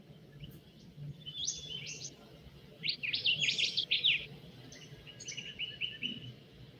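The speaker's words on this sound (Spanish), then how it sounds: "¿Sí se escuchan las aves?" Birds in a western Australian forest sing bright, clear chirping phrases in several separate bursts, fairly close and alone over a soft, steady rustling background.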